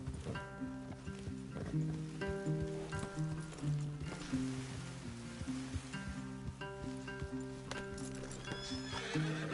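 Horses whinny and neigh repeatedly over steady clip-clopping hooves in a video game on PS4, with tonal calls layered across a busy outdoor scene at moderate volume.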